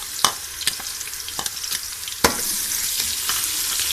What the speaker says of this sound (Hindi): अब हम इसमें भी ये लहसुन का पेस्ट डाल देते हैं।